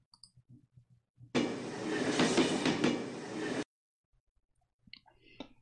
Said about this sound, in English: And we can make a starting sound